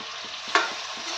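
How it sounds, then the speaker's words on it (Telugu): Prawns frying in a pan, a steady close sizzle with a sharp crackle of spatter near the middle and faint stirring knocks. "ఇలా రొయ్యలు వేసేసి వేగనివ్వాలి. ఫుల్లుగా మంచిగా వేగనిద్దాం."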